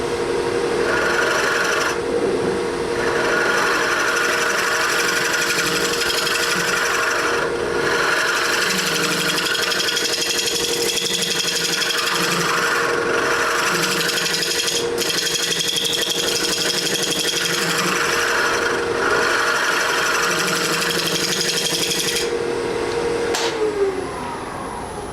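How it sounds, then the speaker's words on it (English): A handheld scraper working over a thickly coated surface, giving steady rasping, rubbing strokes in a repeated rhythm, fairly loud and close, with no talking throughout. "Touch it up with the scraper."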